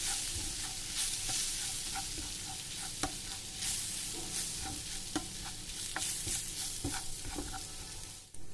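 Semolina frying with vegetables in a pan for suji cutlets: a soft continuous sizzle with regular scraping and tapping of a spatula as it is stirred, close but fairly quiet, no voices.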